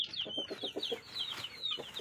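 Sick rooster with a respiratory illness, giving a short series of rough, rhythmic clucking and rattling breaths, faint and close, with no voices.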